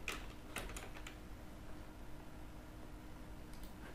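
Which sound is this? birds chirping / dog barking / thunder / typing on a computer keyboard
typing on a computer keyboard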